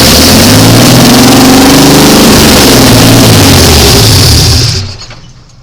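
A 1985 Chevy C10 pickup engine runs at a high, steady idle, loud and close with a dense mechanical roar, then cuts off abruptly near the end, leaving only faint residual noise.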